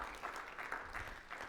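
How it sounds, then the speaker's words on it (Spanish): A church congregation applauds the Lord, a brief, moderately faint burst of clapping from many hands in a hall, even and continuous over a second and a half. "Era un aplauso al Señor."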